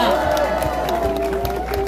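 Rally crowd at a presidential election campaign event applauding and cheering, a steady wash of clapping with voices and amplified announcer speech over it.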